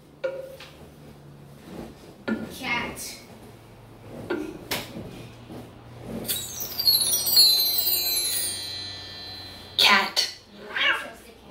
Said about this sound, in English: Next is a cat.